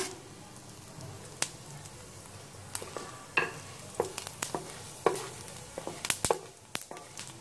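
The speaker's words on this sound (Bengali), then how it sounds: "জিরাগুলো যতক্ষণে কালো না হবে, কালো কালো রং না আসবে, ততক্ষণ পর্যন্ত আমি ভাজবো।" Whole cumin seeds fry in oil in a pan, a soft steady sizzle broken by scattered sharp pops and the clicks of stirring, close and fairly quiet.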